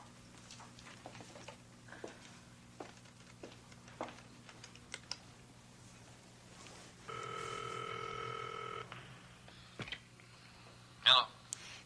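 A telephone dialed indoors in a 1980 television soap opera scene: scattered light button clicks, a steady tone lasting about two seconds, then a sharper handset clatter, all over a low electrical hum.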